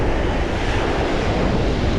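Waves and wind on a Lake Erie beach make a dense, constant roar, loud and close, with wind buffeting the microphone and no voices.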